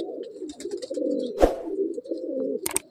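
A Madrasi pigeon in a loft coos close by with a steady low burbling call, broken by a brief wing flap or scuffle and a short rustle near the end.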